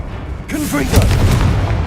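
A Confringo fire spell blast in the video game Hogwarts Legacy on PS5 lands as a sudden booming burst that rumbles on for over a second, while a voice calls out over it.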